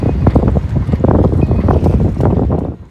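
Strong wind of about 23 knots buffeting a boat anchored on a Rocna with 5x scope, a loud roaring gusty rumble with waves slapping at the hull, close and steady throughout.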